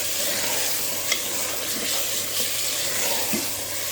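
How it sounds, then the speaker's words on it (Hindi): Minced meat frying in a pan with spices, stirred steadily, giving a continuous close sizzle with soft scraping scrapes, no talking. "इसको हम चला लेते हैं अच्छी तरह से"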